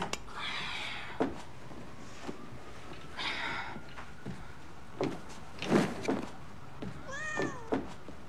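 A house cat meows a few times, including a clear rising call near the end, amid faint room noise and door-like clatter in a film scene.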